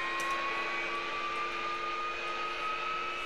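An AV-8B Harrier jet engine spooling up in the DCS flight simulator, a steady whining turbine hum with sustained high tones over a constant roar, heard alone.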